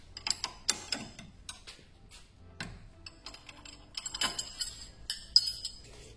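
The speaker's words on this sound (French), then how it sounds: "tu desserres l'écrou de rotule de direction." A ratchet wrench clicks and clanks while loosening a 17 mm steering ball joint nut on a Renault Clio 2 front suspension, giving short irregular metallic ratcheting bursts with pauses between them, close and fairly quiet.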